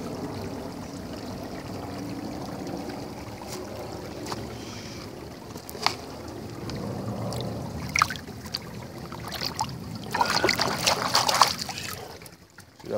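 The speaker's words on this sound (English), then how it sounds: "That water just coming up down off the stream." Water running down a stream outdoors, a steady broadband rush with scattered splashes that grow busier and louder toward the end.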